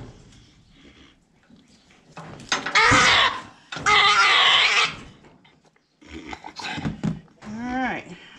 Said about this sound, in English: you heard him scream, so he's not very happy about it